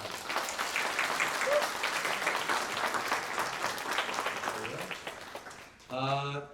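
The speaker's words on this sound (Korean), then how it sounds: "우리 하나님께 한번 영광의 박수 올려드립시다" Congregation applauding during a Korean church Sunday worship service, a steady dense clapping that fills the room for several seconds before a voice cuts in at the end.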